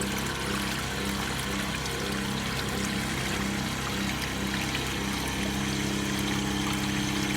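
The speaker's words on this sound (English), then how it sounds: "the flow coming from the channel is passing through a V-notch weir" Water from a channel pouring through a sharp-crested V-notch weir in a flow measurement setup, a steady continuous rushing flow at moderate level with no breaks and no talking.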